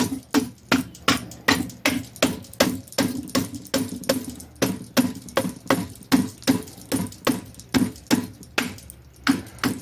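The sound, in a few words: rubber mallet hammering a part onto an RC chassis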